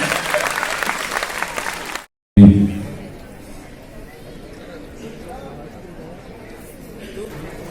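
An audience at a live comedy show in Jaipur claps loudly for a stretch, then the applause cuts out and a lower crowd murmur with some voices follows.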